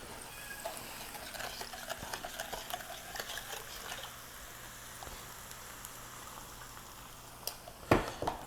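Noodles and sauce sizzling and charring in a hot pan on a high flame, a steady close frying hiss with faint stirring scrapes and a sharper clatter near the end.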